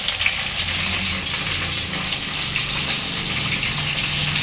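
Prepared gravy pours into a pan of fried stuffed brinjals for a kurma, a steady loud gushing, splashing liquid sound that runs unbroken the whole time, up close.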